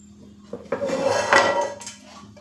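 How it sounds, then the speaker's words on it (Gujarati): A metal pot set down on a kitchen stove before frying jalebi, heard as a close clatter and a scraping knock of cookware lasting about a second, alone without talk. "અહીંયા જલેબી તળવા માટે એક વાસણ રાખી લેશું"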